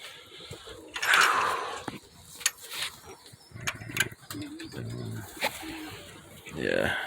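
Pigeons and other birds in a backyard loft coo in soft, low rolling bursts, mixed with shuffling, thumps and rustling noises nearby; a person speaks briefly at times.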